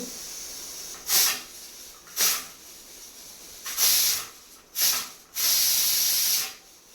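A pressure cooker releases steam in five loud, close hissing bursts, the last one longest, with a steady background hiss between them.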